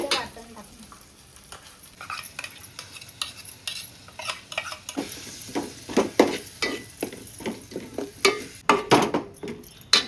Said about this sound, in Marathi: आता ह्याच्यामध्ये वाटण टाकणार.